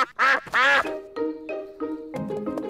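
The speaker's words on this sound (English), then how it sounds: "The ducks are swimming in their pond" Cartoon ducks on a boat pond in Peppa Pig quack in a few loud, nasal bursts, followed by softer, overlapping honking quacks, close and clear without any talking.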